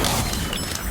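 A Confringo blasting spell goes off in the Harry Potter: Magic Awakened video game, a dense, loud one-second burst of crashing, booming noise that fills the whole span without a break.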